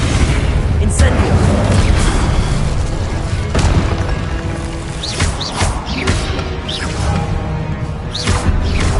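Repeated Incendio fire spells cast during combat in Hogwarts Legacy, with booming fiery bursts, whooshes and thuds packed over a loud, continuous battle soundscape.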